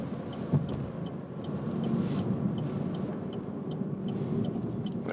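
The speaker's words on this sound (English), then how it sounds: "The turning indicator sounds a little bit dull" A 2016 Vauxhall Opel Astra K's turn indicator ticks steadily and somewhat dully, its faint regular clicks sitting beneath the constant hum of road and engine noise inside the cabin.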